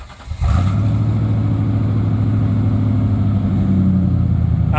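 A truck engine with a damaged exhaust and a faulty catalytic converter cranks and catches, then runs loud and steady with a deep rumbling idle and light revving close by.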